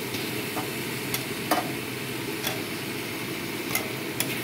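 Tomatoes fry in oil in a pan for chicken curry, a steady soft sizzle broken by occasional light clicks and taps of a spoon against the pan.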